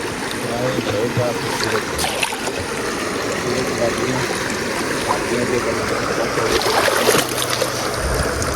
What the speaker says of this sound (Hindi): ये बगता पानी है और ये साफ होता है।